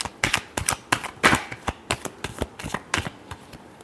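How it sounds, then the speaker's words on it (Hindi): Tarot cards being shuffled up close in a rapid run of crisp riffling snaps and soft slaps, with irregular bursts over about four seconds and no voices. "Last shuffle."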